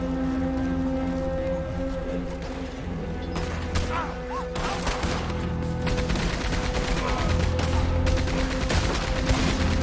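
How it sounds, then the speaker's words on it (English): Gatling gun firing in the video game Red Dead Redemption 2, bursts of rapid gunfire rattling under a steady game backdrop, growing denser toward the end, with faint voices in the mix. "Get on that Gatling gun, Arthur!"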